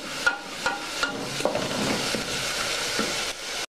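Pumpkin locro ingredients sizzle and brown in a pan, a steady loud frying hiss punctuated by several sharp knocks of a utensil stirring against the pan, with no voices.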